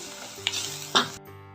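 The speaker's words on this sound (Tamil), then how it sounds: "பொரிக்குது." A pan of tomato and chili-powder gravy with coriander powder sizzles steadily for a brinjal gravy, broken by two sharp stirring scrapes close by before the hiss suddenly drops away.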